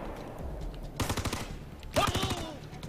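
Gunfire in the tactical shooter Ghost Recon, two bursts of rapid automatic fire about a second apart, close and sharp, with faint voices in the mix.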